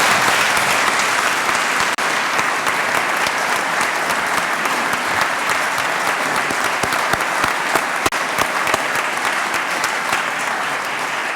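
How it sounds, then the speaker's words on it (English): A large audience at the 2024 Indiana State of the State address applauds steadily and loudly for about eleven seconds, a dense continuous wash of clapping with no break. "please give yourselves and our statewide partners a big round of applause"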